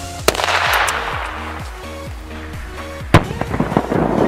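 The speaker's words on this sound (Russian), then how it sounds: "Ну а касательно петарды, лампу довольно неплохо порвало." A large firecracker blasts apart a lamp, a sharp loud bang followed by rattling debris and ringing, with a fainter crackle earlier amid a series of short tonal whoops.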